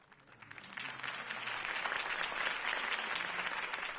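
A crowd in a video game breaks into applause after a campaign speech, a dense wash of clapping that swells quickly and holds steady.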